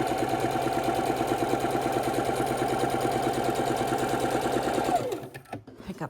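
A sewing machine stitches across a snowball quilt block, a fast steady rhythmic whirr for about five seconds before stopping, followed by faint handling noises of the fabric.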